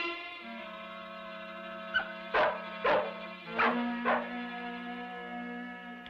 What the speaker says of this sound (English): That dog's barking might have alerted them.